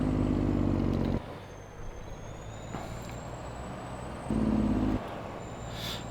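Loud truck in Farming Simulator 22 with a low engine rumble and steady drone, two heavier revving bursts at the start and middle, and a thin high whine running over it.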